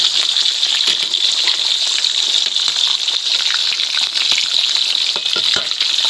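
Fish fries in a pan with a dense, continuous, close-up sizzle and crackle that holds steady throughout, with no one talking.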